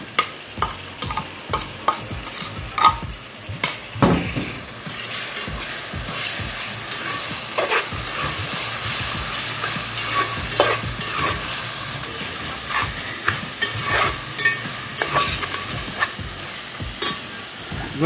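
Masala paste for fish curry sizzles and fries in a pan while being stirred, with steady frying hiss and repeated scraping stir strokes, close and fairly loud, no talking.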